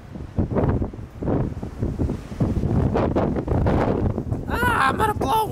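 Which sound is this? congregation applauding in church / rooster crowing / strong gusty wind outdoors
strong gusty wind outdoors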